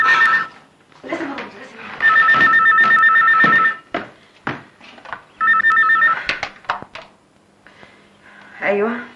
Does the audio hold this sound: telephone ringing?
yes